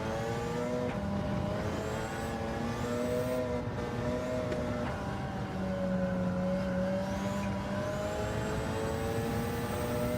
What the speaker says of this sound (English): That turbo chatter there from the dump valve